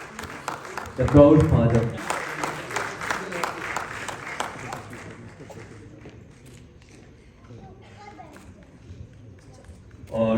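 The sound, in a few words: audience applause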